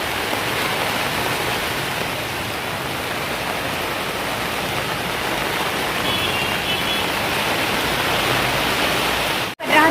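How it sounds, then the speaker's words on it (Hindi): Heavy monsoon rain pours down in a steady, dense roar that fills the whole scene without letup, broken only by a brief knock near the end. "झमाझम बारिश हो रही है।"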